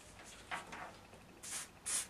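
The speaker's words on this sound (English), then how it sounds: "get a bit of silicone and spray the inside" A few short hissing sprays from an aerosol can of silicone spray, spaced apart, close by and fairly quiet, with the last burst the strongest.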